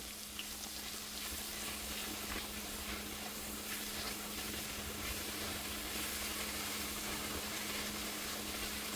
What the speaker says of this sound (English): Adding more oil, vegetable oil to the butter. Adding onions, lots of onions.